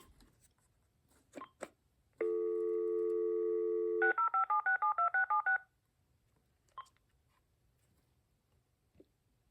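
A steady dial tone sounds for about two seconds, then a quick run of about nine beeping touch-tone redial digits from a BellSouth (VTech) BS2425 2.4GHz cordless phone, with faint clicks around it.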